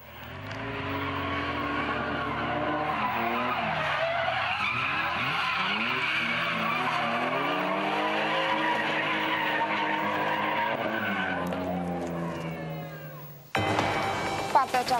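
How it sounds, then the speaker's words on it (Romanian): Several cars skid and squeal their tires at a drift competition on a lakeshore, a loud continuous howl of sliding rubber and revving engines that runs for about thirteen seconds before cutting to a brief burst of harsher noise. "Mai mulți șoferi s-au întrecut la o competiție de drift."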